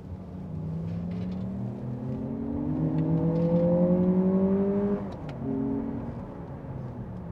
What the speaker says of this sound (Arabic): الصوت داخل شوي من المحرك وشوي من السماعات اللي فيها